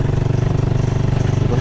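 A kolong-kolong motorized tricycle's motorcycle engine idles close by with a steady, throbbing low rumble and a faint clatter, running alone for the whole moment.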